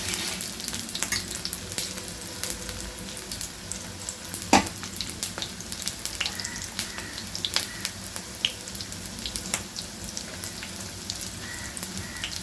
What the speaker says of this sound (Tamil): அதில் கடுகு, உளுந்தம்பருப்பு, வெங்காயம் இதை போட்டு கொஞ்ச நேரம் வதக்கணும்.